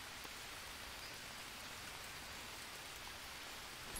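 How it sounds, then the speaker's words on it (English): Steady, hissing rainfall in the jungle survival game Green Hell, dense and even throughout, moderately quiet, with no voices. "Now, if the rain would stop,"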